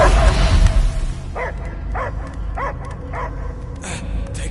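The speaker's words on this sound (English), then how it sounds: "I hear only barking" In the Guardians of the Galaxy video game, a dog gives a series of sharp, evenly spaced barks and yips, close and clear, after a burst of louder game noise at the start.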